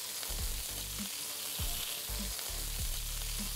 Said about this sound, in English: And now let's quickly add the cauliflower